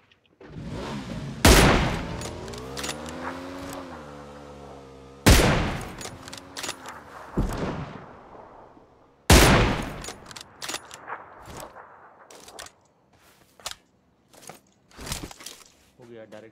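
PUBG Lite gunfire comes as several sharp, loud shots and short bursts spaced across the stretch, with quick rattles toward the end and a voice talking between them.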